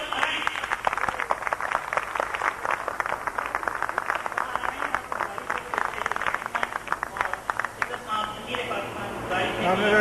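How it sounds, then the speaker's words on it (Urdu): Applause from an audience at a community convention welcoming a speaker, a dense crackle of clapping that runs through most of the stretch and is mixed with voices. "میں اپنے تمام پاکستانیوں کو گزارش کرتا ہوں کہ پرجوش تالیوں میں استقبال کیجیے"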